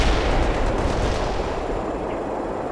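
Heavy artillery fire in the video game World in Conflict, a loud sustained low rumble of blasts and explosions without any voices.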